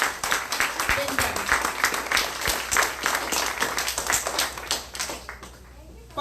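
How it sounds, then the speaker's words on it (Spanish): A church congregation claps during a Spanish-language sermon, producing moderately loud, scattered rhythmic hand claps that continue steadily and taper slightly toward the end. "Dale un fuerte aplauso a Jesús."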